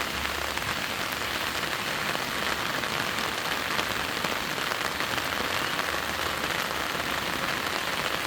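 Steady rain pours down on a village, a dense, even hiss of drops on surfaces that continues unbroken and fairly loud throughout, with no voices.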